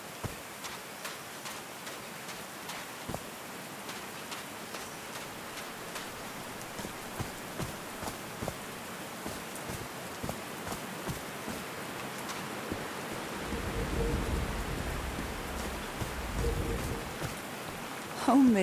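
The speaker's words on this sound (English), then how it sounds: "These drops of rain are so refreshing." Rain falls in the video game Call of the Sea as a steady, soft patter, with regular light ticks running through it and a heavier swell near the end.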